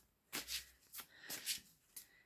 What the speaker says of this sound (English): So let's have a little shuffle.